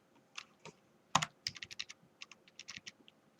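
Typing on a computer keyboard during Microsoft Word 2013 work, a quick close-up burst of crisp key taps with one louder clack, then an irregular run of light clicks, no speech.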